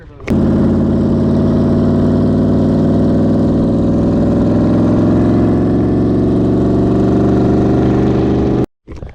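Car engine droning steadily from inside while driving, a loud continuous low hum with a slight rise in pitch, cutting off abruptly near the end.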